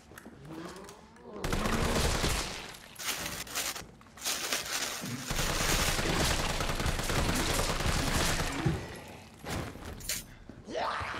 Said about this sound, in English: I'ma have to shoot you for that one.